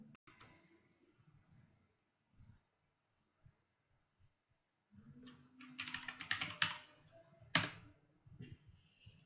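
Keys clatter on a computer keyboard while code is written, sparse isolated taps at first, then a denser run of quick close keystrokes.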